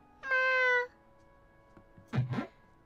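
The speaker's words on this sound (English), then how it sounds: "Meow. The sound was coming closer." A cat meows in the Hakuoki game at night, one clear sustained call followed after a pause by a second, shorter wavering meow-like cry.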